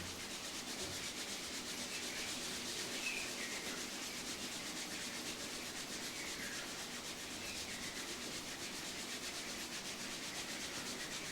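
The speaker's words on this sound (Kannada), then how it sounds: "ಕೈಗಳನ್ನು ಉಜ್ಜಿಕೊಳ್ಳಿ." Hands rubbing together during a yoga practice session, a soft, steady, continuous swishing friction that goes on for several seconds, faint and with no other sound over it.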